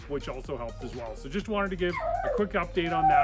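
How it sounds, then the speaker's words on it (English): A pet dog barks and whimpers in short yips in the background while someone talks steadily in the foreground. "that's our dog in the background"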